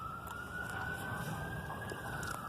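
An ambulance siren wails steadily at a distance with a slowly rising tone, heard outdoors on private property near Dallas, Texas, with faint background noise.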